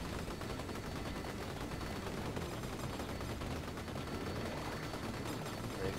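Dense, nonstop rapid gunfire from a huge arsenal of weapons in Vampire Survivors, a continuous rattling barrage at an even, steady loudness with no pauses.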